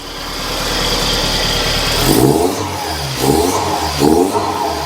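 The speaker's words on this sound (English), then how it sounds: "You can freaking hear the wastegate now." A turbocharged 1998 Chevy Tracker / Suzuki Samurai revs up from a steady idle, and its turbo exhaust rises and falls in three loud surges, close to the microphone, with no talking.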